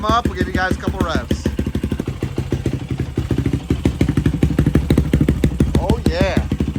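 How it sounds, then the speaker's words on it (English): A Yamaha YFZ450 quad with a 500cc big-bore stroker engine, hot cams and a Dasa exhaust idles loudly at close range while warming up. The choppy, pulsing exhaust beat swells slightly at times, and someone talks over it at the start and near the end. "Gotta let it warm up. We'll give you guys a couple revs."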